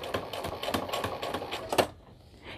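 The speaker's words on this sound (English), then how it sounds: "I'm gonna do another stitch down, okay? And I am gonna start with a back stitch" A sewing machine runs a short back stitch on a towel, its needle clattering in a quick, even rhythm at close range before stopping abruptly.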